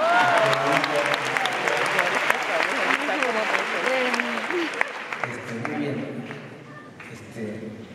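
Concert crowd at a show in Bogotá applauding steadily with dense clapping, cheers and voices mixed in, gradually thinning toward the end.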